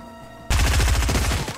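SMG gunfire in a video game bursts in abruptly as a rapid, loud stream of automatic shots after a brief quiet start.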